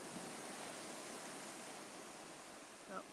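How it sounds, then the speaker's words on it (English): Waves crash on a rocky shore in a steady, broad roar of surf with a slight swell near the end, heard alone without voices. "watching the waves crashing down here"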